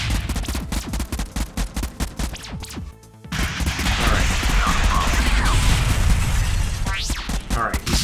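Rapid bursts of video game gunfire rattle close and loud, a fast automatic stutter broken by a brief pause, then dense shooting and blasts.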